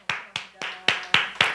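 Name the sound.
congregation applauding in church service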